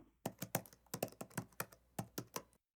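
Someone types an email prompt on a computer keyboard: about a dozen crisp, close keystrokes in an uneven rhythm, then silence.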